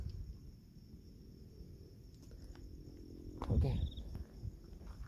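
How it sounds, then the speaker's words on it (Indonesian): Crickets chirp in a cemetery at night, a faint steady high trill running throughout beneath low rustling, with a short spoken word and a brief louder shuffle near the end. "Ada suara jangkrik."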